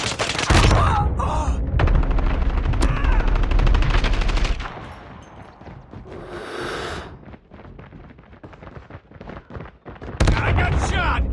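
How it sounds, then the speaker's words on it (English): Loud, dense bursts of gunfire in a Call of Duty match, rapid automatic shots crowding the opening seconds, quieter scattered shots and game effects in the middle, then heavy firing again at the end. "I got shot."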